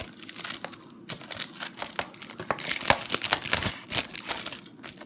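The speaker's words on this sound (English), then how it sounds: "Now, let me just unwrap this." Crinkling and crumpling of thin plastic wrap being torn off a DVD case, close and fairly loud, in irregular bursts of crackles and rustles that run steadily through without speech.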